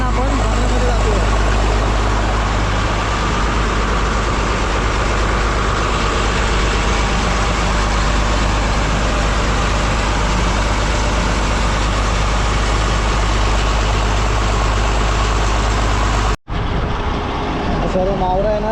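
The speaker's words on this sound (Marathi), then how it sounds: "बोटीला स्टार्ट मारले आपण आणि बंदरामध्ये जातोय आहे" A fishing boat's engine runs steadily and loudly at sea while heading into harbour after a prawn fishing trip, a constant low drone that cuts out abruptly near the end.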